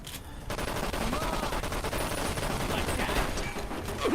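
A rapid, dense burst of gunfire from a gun in Fallout: New Vegas, shots rattling almost continuously and loud after a brief quieter start.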